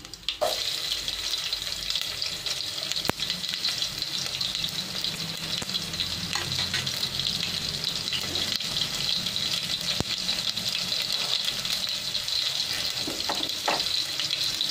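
Mustard seeds and garlic sizzle in hot oil for sambar, a steady bright frying hiss that holds evenly throughout with a few soft clinks and stirring sounds.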